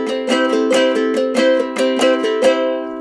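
A small bright-toned banjolele plays a quick, steady split stroke pattern of strums and taps, clear and close with no voices.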